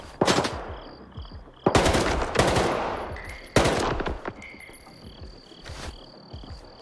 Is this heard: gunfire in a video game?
yes